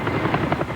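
A helicopter hovers over a flood-crippled city water treatment plant as it hoists out massive flood-damaged pumps, its steady rotor throb and engine roar loud and continuous with no voices over it.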